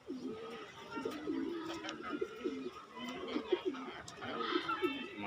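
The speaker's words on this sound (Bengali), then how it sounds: "একটা ভালো একটা মাদি কবুতর।" Pigeons coo repeatedly nearby in soft, rhythmic throaty phrases, with a voice talking now and then.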